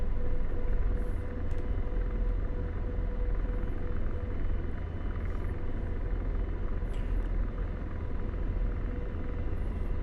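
AH-64D Apache helicopter in DCS World lining up on the runway for takeoff, with a steady loud rotor and turbine rumble that holds throughout and a few faint high clicks above it.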